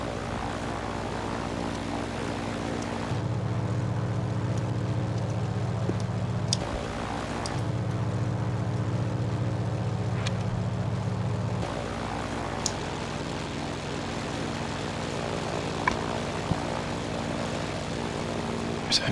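A Grumman F4F Wildcat's propeller engine drones while the fighter taxis, a steady rumbling hum that swells in heavier low-pitched stretches, heard from a short distance with faint background voices.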